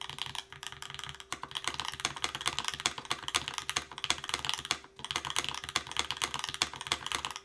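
A custom mechanical keyboard with a Cherry-style spacebar typed on rapidly and close up, a dense run of crisp clacky keystrokes with a few short pauses.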